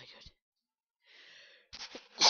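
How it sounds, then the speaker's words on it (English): One close, abrupt human sneeze bursts out at the very end, preceded by a soft breathy inhale and a short pause of silence. "Oh, I sneezed."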